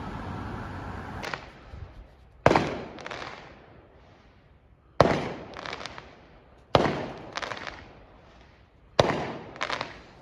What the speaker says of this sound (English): Anyway, let's get back to the fireworks spot.